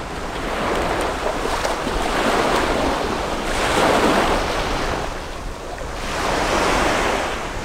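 Sea waves break on a Costa Rica beach in slow, rolling surges about every two to three seconds, loud and close, with wind buffeting the microphone.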